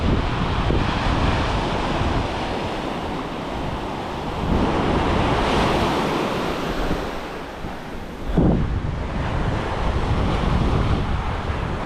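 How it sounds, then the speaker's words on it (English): Strong west wind gusts across the microphone over steady crashing surf at an ocean beach, a loud continuous roar with swells rising and falling throughout. "We got a west wind that's now cranking"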